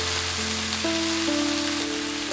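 Rice and green peas being stir-fried for Cantonese fried rice, giving a steady, close sizzle and hiss that runs unbroken throughout with no voices.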